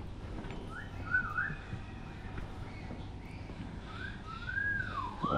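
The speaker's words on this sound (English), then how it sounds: "It is the bird whistling at Gladys." A bird at a floating village gives two rising-and-falling whistles, faint and a few seconds apart, over a quiet low background.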